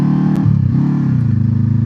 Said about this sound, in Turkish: Umarım egzoz sesi sesimi bastırmıyordur.